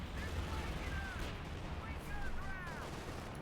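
Cannon and gunfire from Company of Heroes 2, a German-versus-US army battle, rumble as a dense continuous barrage of distant shots and booms, moderately loud with no clear single bursts standing out.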